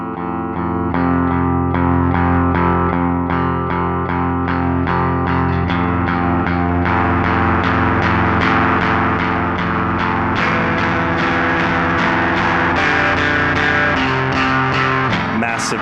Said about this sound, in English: stacking distortion modules creates like an extra unique sound, something that sounds so broken, so wrong